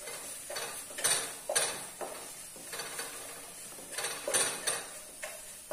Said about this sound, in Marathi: अंड हे मी चांगलं परतून घेतलं